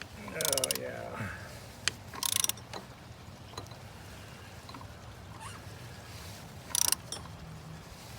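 A ratchet tightens a motor mount bolt on a 2000 Dodge Grand Caravan, heard as a few short clicking bursts with long quiet gaps, close but modest in level, with faint background noise.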